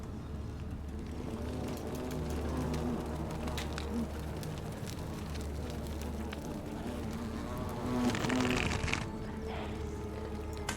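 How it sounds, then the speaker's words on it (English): Hornets buzzing in The Forgotten City video game, a continuous droning hum with wavering pitch that swells louder for a moment near the end, close and steady. "But you're stuck in there with the hornets."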